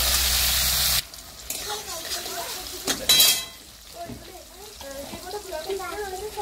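Chopped tomato drops into hot oil already seasoned with bay leaf and cumin, setting off a loud burst of sizzling that eases into steady frying with scattered stirring and utensil clinks.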